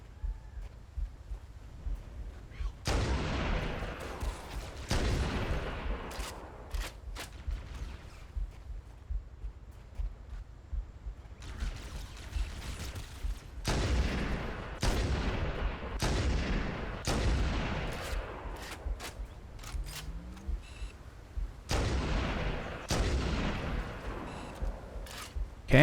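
Repeated bursts of gunfire from a weapon in Halo: Combat Evolved, with loud clustered volleys and booming blasts spread across the stretch, separated by brief lulls of rumbling background ambience.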